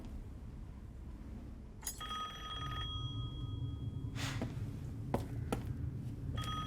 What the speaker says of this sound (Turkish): Telefon çalıyor kapat lan.